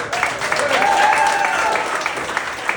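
Comedy club audience at a roast claps for two comedians, steady loud applause filling the room with a thin tone running over it.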